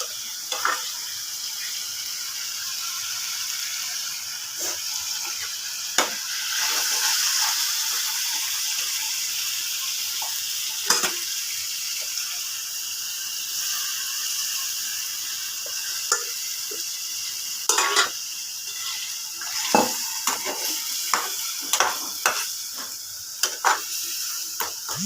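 Grated egg fries in a pan with a splash of water while being stirred for egg bharta. A steady soft hiss runs throughout, broken by scattered sharp clicks and scrapes from the spoon, with no voices.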